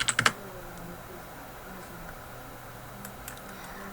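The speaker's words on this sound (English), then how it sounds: "first you need to log on to our program with simply just typing in your ID and password" A quick burst of keystrokes on a computer keyboard, several sharp clicks in rapid succession at the start while logging into fashion and textile CAD software, then a quiet room with a few faint taps later.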